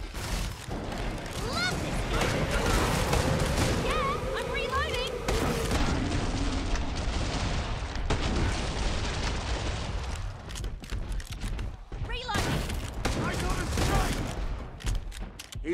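FAL rifle gunfire in the video game Killing Floor, dense bursts of rapid shots and booming impacts amid a chaotic fight, loud and close, with voices talking over the shooting.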